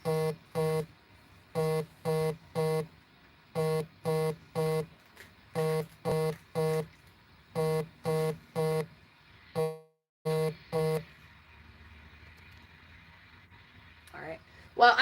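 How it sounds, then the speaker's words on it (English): A mobile phone rings with repeated bursts of bright electronic beeps in short groups, steady and fairly close, then stops, leaving quiet room tone and a brief rustle at the end. "My phone's going off."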